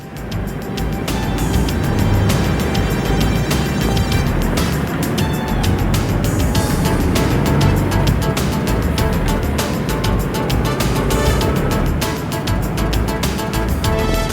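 A few cars pass on a desert road in the United Arab Emirates, a loud, continuous engine and tyre rumble that swells and fades over the whole stretch, with no one talking.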